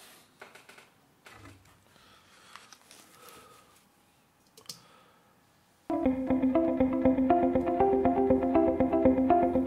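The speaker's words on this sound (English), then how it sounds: "Now if you listen to the guitar parts here" Electric guitar parts panned left and right with delay in a corporate-style track enter after soft clicking and rustling, then play a steady rhythmic pattern of repeated chords, loud and continuous.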